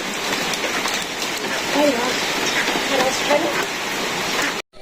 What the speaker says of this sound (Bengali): বৃষ্টি এখন একটু কমছে জোরই হয়েছিল অনেক